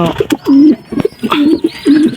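Young pigeon chicks coo close by in several soft, rolling calls, set against brief rustles and flutters of wings.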